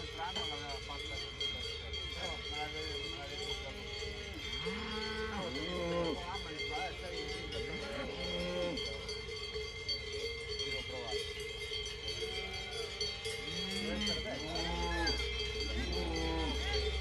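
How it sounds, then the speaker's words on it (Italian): Cattle on a farm with cowbells clanking in a steady irregular jangle, while several cows moo and bellow nearby and other farm animals call in between. "Allora, filmiamo i vacche."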